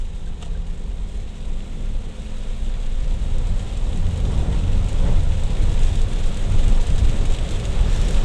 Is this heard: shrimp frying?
no